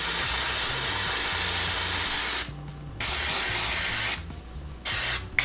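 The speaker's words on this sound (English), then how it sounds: "I'm just gonna take like, I think from like here and spray that" An aerosol can of L'Oréal Colorista hair color spray hisses in long, steady bursts with short pauses between them, close and loud, with no speech.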